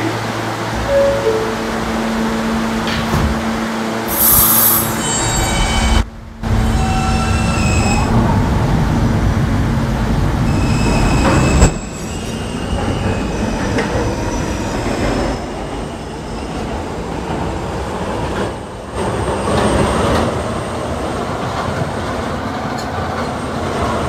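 A Roblox R160A subway train on the K line runs steadily, with continuous rumble and rail noise, brief high wheel squeals and a few short dropouts, loud and close throughout.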